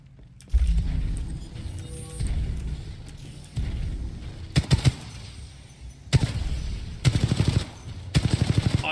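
Gunfire in the video game Titanfall 2 comes as several separate bursts, from single shots to rapid automatic volleys, mixed with mechanical clanks over a low game ambience. The shots are loud and close, with no talking.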